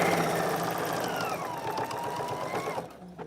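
A sewing machine hums continuously at a steady pace as it sews the final stitch of a shift dress, close and fairly loud, slowing near the end with a faint click.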